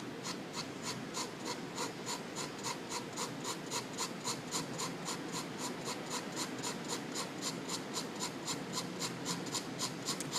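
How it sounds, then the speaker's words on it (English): Pencil hatching strokes on paper, a soft, evenly repeated scratching in quick regular rhythm, close and quiet with no voice. "make sure that you control your pencil pressure and begin by doing really light strokes"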